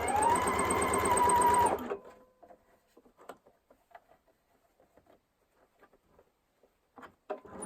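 A sewing machine runs in a steady, fast burst of stitching along a curved quilt seam for about two seconds, then stops, followed by faint scattered clicks and fabric handling.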